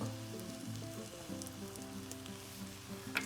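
Small bread donuts frying in a pan, giving a quiet, continuous sizzle with soft crackles over a low hum, no voices.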